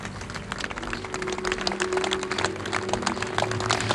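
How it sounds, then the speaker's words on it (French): Polite applause from an evening audience at the open-air Arte Plage in Neuchâtel: steady, scattered clapping of moderate loudness over a faint low hum. "vous l'entendez, Gaël, les applaudissements derrière moi sont polis"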